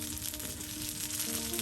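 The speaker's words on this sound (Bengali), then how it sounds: "অল্প সময়ের মধ্যে কিন্তু একদম মচমচে ভাজা হয়ে যাচ্ছে।" Taro (kochu) fritters frying crisp in hot oil, giving a steady, dense sizzle with fine crackling throughout and no voices.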